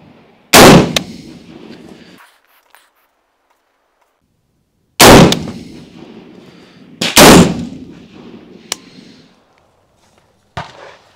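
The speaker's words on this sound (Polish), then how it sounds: "Zamieniamy karabiny i walimy jeszcze raz." Loud, close gunshots from Chinese-made M4-style rifles at a shooting range, fired singly in a sparse sequence with a pair of quick shots and one fainter report, each crack trailing off into brief range echo.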